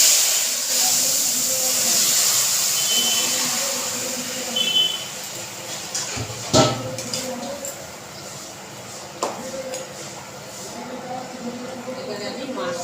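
Curry poured into a hot pan, giving a steady broadband sizzle and hiss throughout, with a few brief louder spits and clatters mid-way while a voice talks over it.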